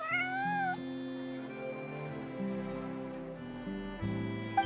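A cute cat meows in Genshin Impact, a few high, wavering calls at the start and again at the end. Soft layered game music plays beneath, and no one speaks.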